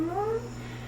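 A person gives a short, rising-falling meow, imitating a cat during a yoga cat pose, over a low steady hum.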